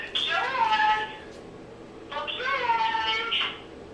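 Two drawn-out cat meows, each with a rising, wavering tone and a gap of quiet between them, heard close and clear in an indoor room.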